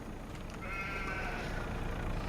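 Sheep bleating in the Farm Sim 25 farming game, one drawn-out harmonic bleat that rises over a steady noisy farm ambience, moderately close and fairly faint, with no talking.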